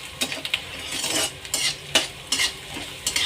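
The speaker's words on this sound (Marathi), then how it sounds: "आता यात बारीक कुटलेलं लसूण टाकायचं आहे लसूण टाकला की लगेच यात कढीपत्त्याची पानं टाकायची आहेत" Crushed garlic and curry leaves frying in hot oil in a pan, a close sizzle broken by repeated bursts of stirring and spatula scrapes against the metal, with no voices.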